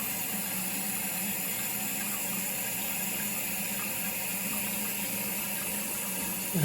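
American Standard toilet tank refilling upstairs in a house, a steady broadband rush of running water with a faint low hum, continuous and fairly close for the whole stretch with no talking.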